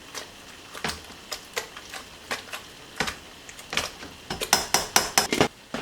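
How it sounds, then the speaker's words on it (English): Tomatoes are pressed down inside a steam juicer with repeated clinks and taps of metal against the pot, irregular at first and then quickening into a denser burst of knocks near the end. "I'm going to smush down the tomatoes again"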